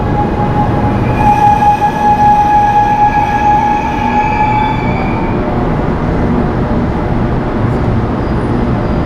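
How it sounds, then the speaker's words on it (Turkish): A metro train arrives at an İzmir station, rumbling steadily nearby with a broad roar and faint high metallic squeal, continuous and loud throughout, with no talking. "Metro geliyor. Yaşasın."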